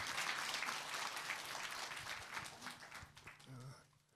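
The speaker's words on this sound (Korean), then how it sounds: "여러분 박수로 청해 주시면 대단히 좋겠습니다" Steady crowd applause fills a town hall meeting in Ulsan, many hands clapping together, fading toward the end with some murmuring voices underneath.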